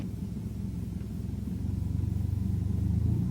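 Simulated Cessna engine in FSX settling to idle, a steady low droning rumble with a faint rhythmic pulse that grows slightly louder and more throbbing toward the end, heard alone without talk.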